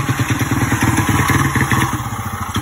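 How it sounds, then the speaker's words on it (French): A 1983 Yamaha XT 125 motorcycle engine runs close by with a steady, rapid thumping beat and a mechanical clatter, heard alone without talk. "J'ai remis en route la moto bécane."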